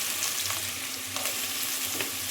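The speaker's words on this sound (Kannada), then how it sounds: "ಇವಾಗ ಇದಕ್ಕೆ ಕಟ್ ಮಾಡಿ ಇಟ್ಕೊಂಡಿದ್ದ ಈರುಳ್ಳಿಯನ್ನು ಹಾಕಿ ಚೆನ್ನಾಗಿ ಫ್ರೈ ಮಾಡ್ಕೊಳ್ಬೇಕು" Cut onions frying in ghee in a pan for jeera rice, a steady close sizzle with a few light stirring scrapes, brief and without talk.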